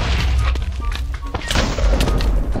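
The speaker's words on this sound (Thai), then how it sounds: "ฮ้ยระเบิดว่ะ" Explosions in Minecraft go off as loud, dense booming blasts, one after another and filling the whole clip, with a voice briefly heard amid the noise.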